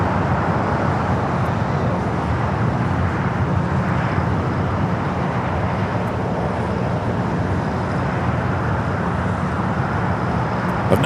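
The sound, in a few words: airliner flight to Portland departing LAX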